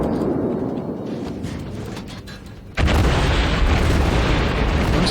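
A loud, booming naval gun blast from a light cruiser in the World of Warships naval combat game, with a sudden heavy onset partway through and a sustained roar following over steady engine and sea rumble.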